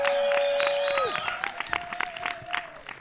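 An audience at an outdoor creekside concert applauds and cheers for a family band, with dense, continuous clapping that follows a sustained musical note fading out.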